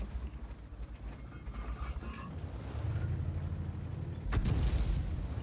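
Tank cannon HE rounds firing in World of Tanks, heard as low rumbling booms with mechanical creaks, one sharp loud blast near the end over a steady battle din.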